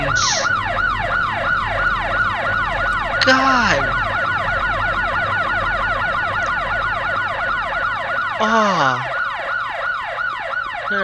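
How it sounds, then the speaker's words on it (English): Loud wailing sirens in the PS2 video game Headhunter sweep up and down continuously, with brief shouted exclamations from a voice breaking in over them. "Gonna have turned down the freaking sirens"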